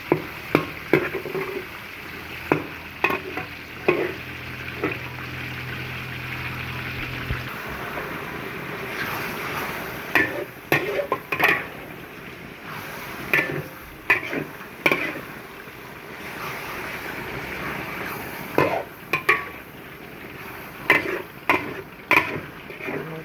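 Mixed vegetables with mushrooms are stir-fried in a pan: a soft steady sizzle runs beneath repeated sharp clacks and scrapes of a spatula against the pan, coming in irregular bursts at close range with no voices.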